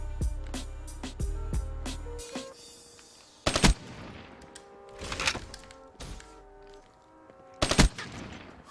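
A sentry gun in Call of Duty fires rapid automatic bursts, a fast rattling stream at first, then three sharp, louder separate volleys with quieter gaps between them.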